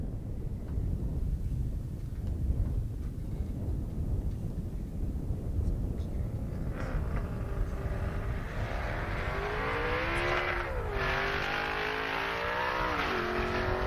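Drag race on a half-mile airstrip pitting a 1,000-horsepower car against a Corvette: a steady engine roar with engines revving and rising in pitch through several gear changes as the cars pull away, fairly distant.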